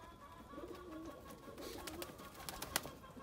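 Pigeons cooing softly in a sunny loft, several low murmuring coos overlapping at a distance, with light scattered clicks and rustles from the birds.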